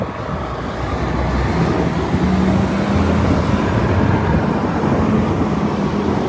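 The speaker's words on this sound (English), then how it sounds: "probably can't hear me because this truck's coming along" A truck rolls past along a residential street, a steady broad rumble of engine and tyres that stays loud and close for the whole stretch, with no voices.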